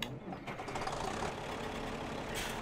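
In Farming Simulator 2017, a John Deere 3x50 series tractor engine turns over with a dense mechanical rattle and churn that settles into a steady close idle.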